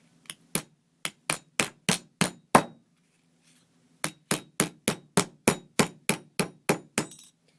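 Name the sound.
nylon hammer striking metal stamping blank on bench block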